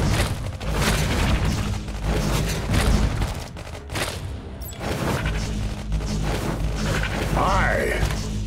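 Grenade blasts in the Iron Marines video game, loud booms and crashes mixed with rapid gunfire in a busy battle, while voices call out over the action.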